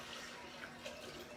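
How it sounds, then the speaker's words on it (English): Hot water pours steadily into an appliance, a continuous soft rush of flowing liquid at close range with no breaks. "We're going to put in 3 cups of hot water, just like that"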